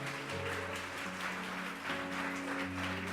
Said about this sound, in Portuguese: A igreja pode aplaudir agora